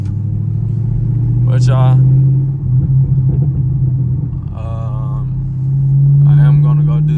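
A Chevrolet Camaro SS engine drones deep and steady while driving a wavy country road, its low hum swelling slightly as it pulls, with someone talking over it.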